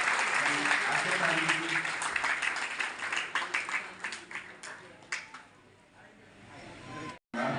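Audience at a party workers' meeting in Maharashtra breaks into loud, dense applause that gradually thins into scattered individual claps and fades out, after which a voice briefly starts.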